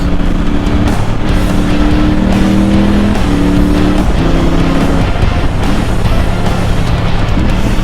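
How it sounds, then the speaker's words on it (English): A high-revving motorcycle engine drones continuously with a few quick pitch drops as the quick shifter changes gears, loud and steady with rushing wind noise throughout, on an open road in North Wales. "God, I love the sound of this quick shifter."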